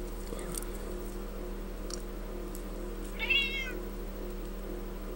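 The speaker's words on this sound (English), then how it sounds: "not to your cat moaning" A single short house cat meow rises midway against a quiet indoor room with a steady low hum, alone and fairly close, with no talk over it.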